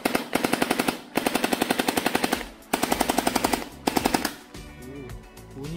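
A MAC 10 gel blaster firing full auto in several rapid bursts, each a dense rattling string of shots separated by short pauses, close and loud, ending with quieter handling noise.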